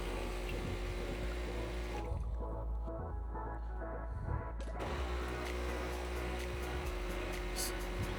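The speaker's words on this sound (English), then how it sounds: "Now it's going to cycle through water through the system." A Breville Bambino espresso machine pumping water through its system during descaling, a loud steady pump hum with gurgling and dripping water, briefly dropping in intensity partway before resuming its drone.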